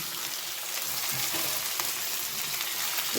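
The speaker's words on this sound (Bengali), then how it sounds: "এটা ভালো করে ভেজে নেব" Steady, dense sizzle of chicken frying in a pan for a Bengali chicken curry, a continuous close hiss with small crackles throughout and no voices.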